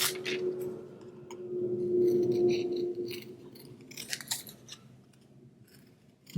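Scissors snip out a paper letter V for a Valentine card, a run of crisp close cutting sounds in short bursts over a faint background hum.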